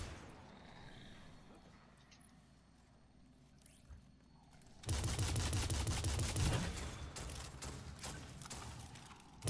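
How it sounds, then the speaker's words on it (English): A Destiny 2 scout rifle fires a quick run of sharp, closely spaced shots that burst in loudly midway, then continue in irregular cracks over game noise after a quieter opening. "Scout rifle is such a sick sound"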